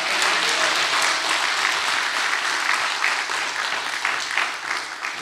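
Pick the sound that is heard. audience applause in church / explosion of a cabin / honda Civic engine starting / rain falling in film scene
audience applause in church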